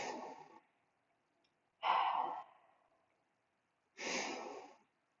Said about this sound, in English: Let's take our 3 deep breaths.